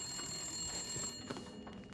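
A telephone rings faintly in the video game The Long Dark, a quiet electronic trill over soft background sound.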